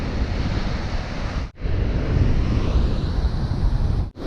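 Ocean surf washes on a beach where a KTM 390 Adventure motorcycle is being ridden, a loud continuous roar of breaking waves mixed with wind buffeting, with two brief dropouts.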